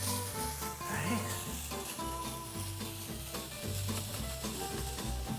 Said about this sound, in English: We'll check on our sausage here. It's getting nice and browned up, right?